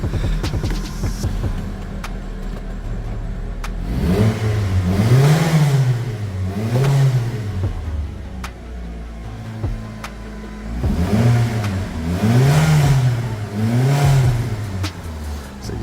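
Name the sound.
Mitsubishi Outlander 2.4 petrol engine running, spluttery exhaust buzz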